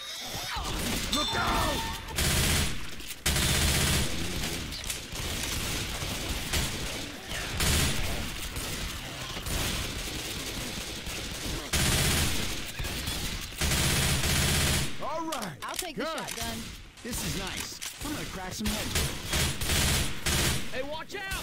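Rapid, loud gunfire from a Left 4 Dead 2 match, with repeated bursts of automatic shooting and impacts that continue almost nonstop, briefly pausing for clattering mechanical sounds, with players talking over it.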